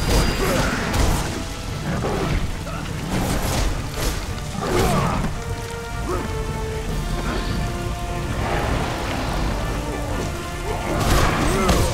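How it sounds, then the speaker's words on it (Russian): Steady rain falls in Castlevania: Lords of Shadow, a dense hissing patter layered with game effects and occasional crashing hits, continuous at a moderate level. "капли дождя на экране как будто настоящие"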